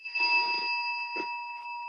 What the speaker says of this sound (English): is that our end bell?